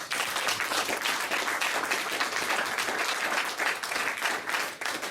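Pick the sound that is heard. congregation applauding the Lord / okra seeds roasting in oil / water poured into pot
congregation applauding the Lord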